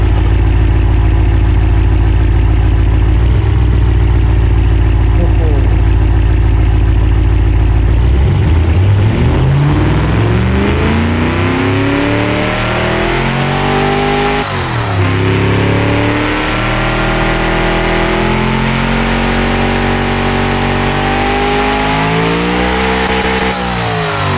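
Virtual naturally aspirated 4.6-liter V8 car engine in BeamNG, first a loud, steady low idle, then rising and falling revs with several throttle blips, loud and close with no talking.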